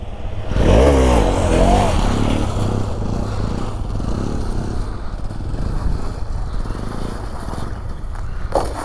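A motorcycle engine revs hard, then keeps droning close by during bike wheelie practice, its pitch sweeping up early on before settling into a steady rumble.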